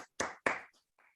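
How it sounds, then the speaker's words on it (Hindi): Audience clapping to welcome a guest at an event, heard as two short loud bursts of hand claps and then a faint brief patter fading out. "एक जोरदार तालियां टाइगर के लिए"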